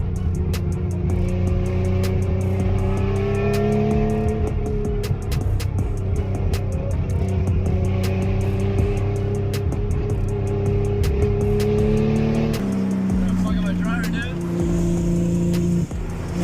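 A Porsche sports car engine drones steadily at high revs under full throttle on a mountain road, loud and close, with a gear shift and pitch change near the end.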